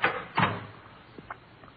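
A door opens or closes in the Dragnet radio drama, heard as two close wooden clunks in quick succession, followed by a few faint clicks and quiet room tone.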